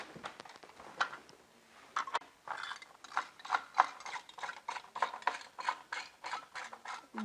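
Screwdriver driving screws during desktop computer assembly, giving rapid ratcheting clicks in bursts with short pauses between turns, close and clear, no voices.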